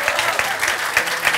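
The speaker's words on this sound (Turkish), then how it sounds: "Alkışlayalım Kaan'ı" A studio audience at a Turkish late-night talk show claps for a guest, a brief steady burst of applause from a crowd.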